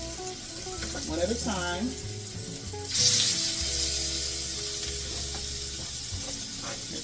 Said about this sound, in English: Our oil is hot enough. And now we're going to go ahead and add our loin chops in here. That's what you want to hear.